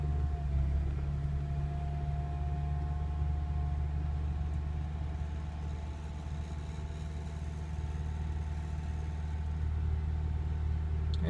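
A 2005 Acura RSX Type-S engine idles just after a weak cold start, a steady close mid-pitched hum with low rumble that holds fairly even throughout, without clear audible surges, and no voices.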